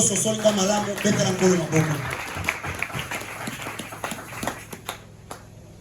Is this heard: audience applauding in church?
yes